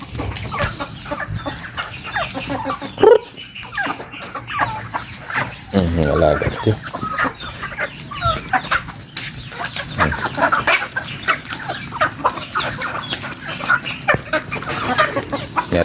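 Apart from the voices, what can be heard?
gamecock chickens clucking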